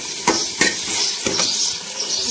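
Food fries in a pan with a steady sizzle, broken by a few sharp knocks of a spoon against the pan.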